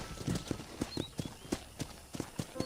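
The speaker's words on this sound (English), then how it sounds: "let's see if you can still ride a horse" Horse hooves clip-clopping on the ground in Red Dead Redemption, a steady trotting rhythm of distinct close hoof strikes with faint game ambience and no talking.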